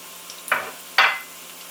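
Onion rings hitting a hot pan for an omelette, two short bursts of sizzling spitting up as each batch lands, then fading to a quiet hiss.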